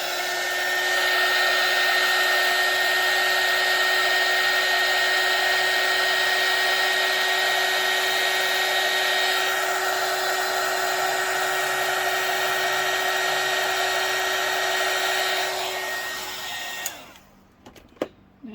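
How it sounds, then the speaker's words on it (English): A hot air gun blows steadily on UV resin, a continuous loud whirring hiss that holds for about fifteen seconds before switching off, followed by a few small clicks. "I'm going to use the hot air gun on here"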